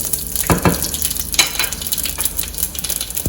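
Whole spices — shahi jeera, fennel, cumin, cardamom, mace and bay leaves — crackle and sizzle in hot oil for a biryani, a steady close frying hiss with a few sharper pops and stirring clinks.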